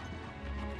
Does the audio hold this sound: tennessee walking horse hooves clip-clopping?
yes